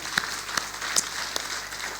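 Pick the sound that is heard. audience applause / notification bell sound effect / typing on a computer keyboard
audience applause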